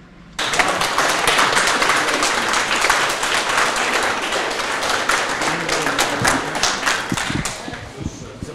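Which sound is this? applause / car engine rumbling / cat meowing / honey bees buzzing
applause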